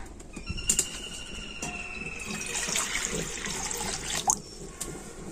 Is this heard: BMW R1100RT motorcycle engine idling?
no